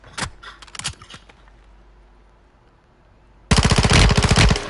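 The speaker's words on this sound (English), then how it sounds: "I keep shooting his ass too." Video game gunfire as a player shoots at an enemy, a few scattered shots at first, then after a lull a loud rapid machine-gun burst of evenly spaced rounds.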